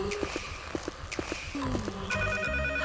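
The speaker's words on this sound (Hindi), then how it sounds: "शायद फोन बज रहा है।" A telephone rings in short repeated bursts after several light taps and footsteps, fairly close and clear.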